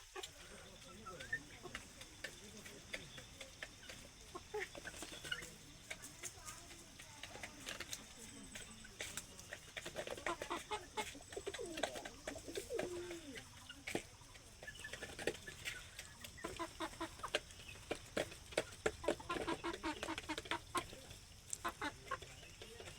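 Poultry on a farm with Chinese ducks and native roosters: scattered clucks and small calls, faint and irregular, with patter and voices talking through much of it.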